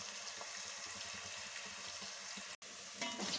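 Frying for street-style fried rice makes a dense, hissing sizzle in a pan, steady and fairly faint, cut by a brief silent gap before the hiss returns slightly stronger.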